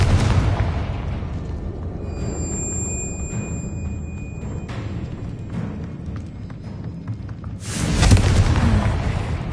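Confringo fire-blast spell from Hogwarts Legacy, a roaring rumbling blast sustained with thin tonal whines, ending with a second loud burst near the close, with no speech.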